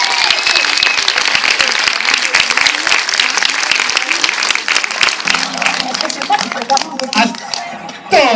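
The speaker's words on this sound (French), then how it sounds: "s'il vous plaît, vous pouvez vous applaudir." An audience at a Montluçon premiere screening breaks into loud, close, continuous applause with sharp individual claps, some shuffling and cheering voices toward the end as the clapping thins.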